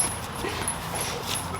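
A one-year-old puppy named Oaken gives short yips and soft whimpers close by, brief high-pitched sounds over an indistinct background.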